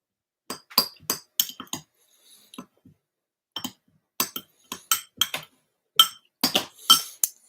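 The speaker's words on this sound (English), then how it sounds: "I'm going to take a little spoon and just mix that up" A small spoon clinks repeatedly against a glass bowl while stirring salsa, sharp ringing taps in uneven bursts with a brief lull mid-way, close and clear with no talking.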